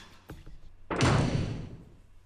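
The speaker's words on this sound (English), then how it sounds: "The sound that they had heard from the basement had definitely been the sound of a door closing." Door closing in a basement in the video game Umineko, two faint taps followed by one solid, echoing thud that fades away.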